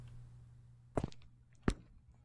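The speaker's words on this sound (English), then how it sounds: "I hear footsteps." Two heavy footfalls thud in the horror game The Guest, spaced about a beat apart over a low steady hum in an otherwise quiet room.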